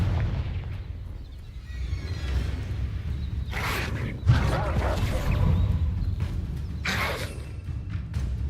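Blasting-spell explosions in Hogwarts Legacy: a few loud booms with crackling bursts around the middle and near the end, over a steady low rumble, with faint voice-like sound in places.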